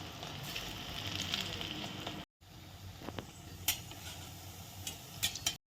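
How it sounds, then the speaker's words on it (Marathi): Potato and sago flour fries sizzle in hot oil, a steady soft crackle and hiss with occasional clinks of a utensil against the pan, fairly quiet and close, with brief gaps in the sound. "तेल तापलेलं आहे तर एक एक आपल्याला सोडून द्यायची आहे"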